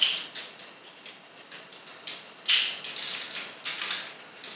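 Ratcheting knee and shin joints on a 2001 Transformers Robots in Disguise Megatron toy click repeatedly, a close series of quiet, sharp plastic clicks in an irregular rhythm with one louder snap partway through.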